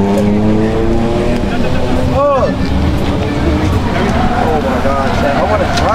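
Car drifting with a clutch kick in Malaysia, the engine revving loudly and steadily with rising and falling pitch sweeps while people talk over it.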